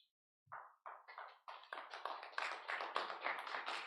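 An audience at a San Mateo County Planning Commission meeting claps, starting with a few sharp separate hand claps and quickly building into quick, brisk, fairly close applause.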